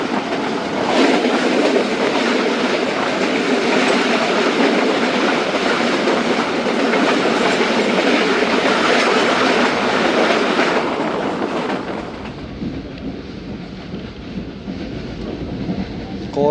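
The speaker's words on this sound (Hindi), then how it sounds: "कोट लखपत से पहले एक बार से फिर ट्रेन अपनी बुक की स्पीड से रवाना हो रही है।" The Khyber Mail train between Multan and Peshawar runs at speed, with a loud, continuous rumble and wheel clatter heard from inside the train that eases slightly near the end.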